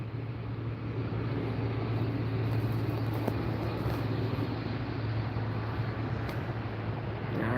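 A JetBlue jet departs LAX airport as a steady, moderately distant roar with a low hum underneath, continuous and without talk.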